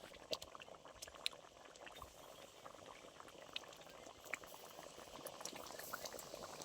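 A pot of masoor dal curry with potato and fried prawns simmers at a gentle boil, faint continuous bubbling and small popping blips with no talking.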